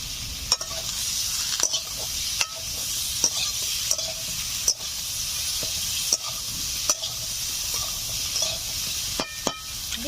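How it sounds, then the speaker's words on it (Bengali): Eggplant pieces go into a pan of frying rohu fish curry with potatoes, sizzling steadily with a loud hiss, and a spoon scrapes and stirs against the pan in regular knocks; no one speaks. "এখন দিয়ে দিচ্ছি বেগুন।"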